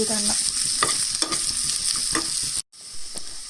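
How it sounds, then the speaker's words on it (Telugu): Ground chutney stirred into a hot tempering in a pan, a steady close sizzle and frying hiss with repeated spoon scrapes and stirring knocks, broken by a brief silent gap near the end before the sizzle resumes. "పచ్చడిని పోపులో బాగా మిక్స్ చేసేసుకొని ఒక 1 మినిట్ అట్లా కొంచెం ఫ్రై అవ్వనివ్వాలి"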